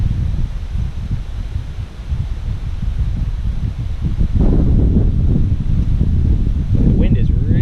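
Wind gusting across an outdoor shooting range, a loud low rumble of buffeting against the microphone that swells and stays strong toward the end, with no other clear sound over it.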